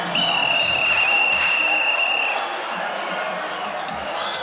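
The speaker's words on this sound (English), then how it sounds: "The crowd are loving every minute of it." A boxing arena crowd roars steadily through a fight, a loud continuous wash of cheering and shouting with a commentator's voice running over it.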